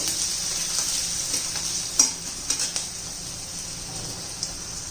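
Chopped onion sizzling steadily in hot oil in a pan while cooking chole, with a continuous bright hiss and a few sharp scraping clicks from stirring partway through.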